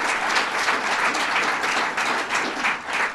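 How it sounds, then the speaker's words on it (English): An audience at a civic hotel development announcement claps in sustained, dense applause, a loud and even wash of many hands that carries on throughout. "Let's give them another round of applause."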